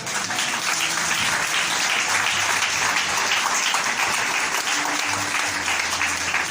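A church congregation at a Sunday service applauds to acclaim the Lord, a steady, loud wash of clapping from many hands that holds evenly throughout.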